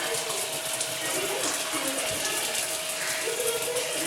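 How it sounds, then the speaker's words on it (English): Water from a reverse osmosis system's FR450 flow restrictor gushes and hisses in a steady broadband stream, close and continuous, with a faint hum underneath and no speech. "water flow has started coming out"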